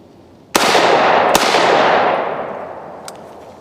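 Two close, loud rifle gunshots, the second coming under a second after the first, crack out toward a barricade on an outdoor range, their echo rolling away over the next couple of seconds.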